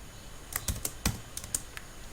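Quiet keystrokes on a computer keyboard, a handful of separate taps in an uneven rhythm, close and soft with no talking.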